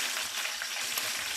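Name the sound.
pepper cooking in oil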